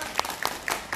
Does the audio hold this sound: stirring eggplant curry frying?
no